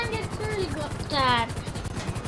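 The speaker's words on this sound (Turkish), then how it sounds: "Evet ilk defa helikopterle gidiyoruz" A helicopter flying in the GTA 5 video game, its rotor giving a steady low rhythmic thumping throughout while people talk over it.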